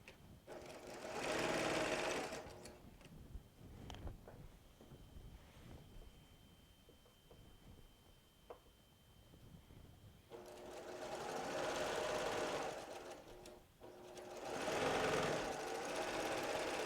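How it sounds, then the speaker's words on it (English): A sewing machine stitching pieced quilt fabric runs in bursts, a steady close whirring hum that pauses for several seconds in the middle with small clicks and handling noises, then resumes in two more runs. "let's get this sewn together"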